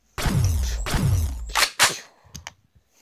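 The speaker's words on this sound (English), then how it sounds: "I could shoot because I have a gun." Gunshots in a video game: two loud, close, sharp reports, each followed by a decaying echo, then a few quicker, lighter cracks and mechanical clicks fading out.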